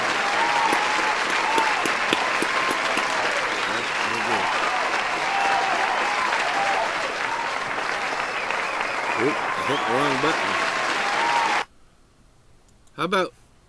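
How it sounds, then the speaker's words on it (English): A live audience at a comedy rant show applauds continuously for most of the stretch, with a voice talking over it, then the clapping cuts off abruptly into near silence before a brief burst of sound. "you deserve to give yourselves a round of applause"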